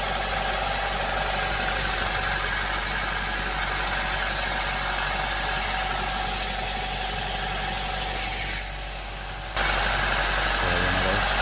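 A car engine with a rough-idle fault settles into a steady, smooth idle once its RPM drops: a close, even mid-pitched hum that continues unbroken, with a brief dip in level near the end.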